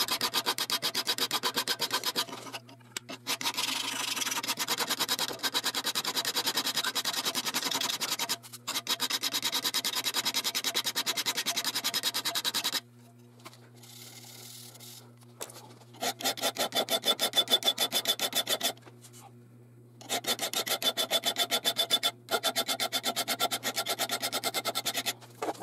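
A hand file rasps over the thicker tip of a steel knife blade in long, steady back-and-forth strokes, loud and close, broken by brief pauses between runs.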